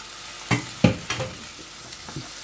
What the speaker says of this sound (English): I'm going to stir